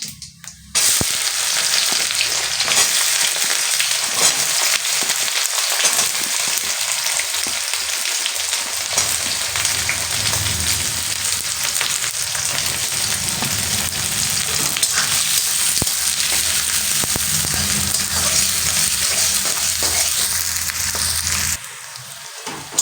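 Whole cumin seeds and chopped onion fry in hot oil in a pan for a Bengali mixed dal tarka, giving a loud, steady sizzle with occasional stirring scrapes and no voices.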